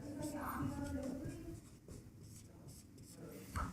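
Pen scratching on paper while a geometry proof about a triangle is written out, soft continuous scraping and strokes, quiet and close, with a voice talking faintly over it.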